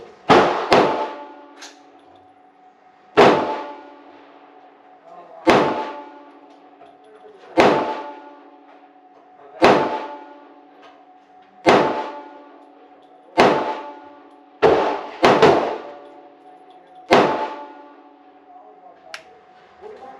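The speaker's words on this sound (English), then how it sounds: "We do 10 shots, check our target, and finish out the mag, same as the last two." Shots from a Smith & Wesson M&P 22WMR rifle at a range, about ten sharp reports with ringing metallic decay, spaced roughly two seconds apart with a quick double near the end, loud and close with no talk.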